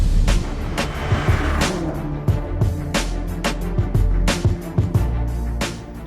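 A BMW X5M Competition accelerates from a standstill with a loud, close engine roar, punctuated by sharp bursts and pops as it pulls hard through the gears.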